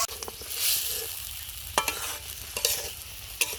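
Small puti fish fry in spice paste in a pan, a steady hiss of sizzling broken by several sharp scraping stirs of a spatula, close up and without voices.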